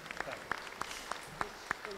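Audience applause at a Radzyń Podlaski town-days event, a sparse patter of claps, separate and fairly evenly spaced, heard at a moderate distance for about two seconds.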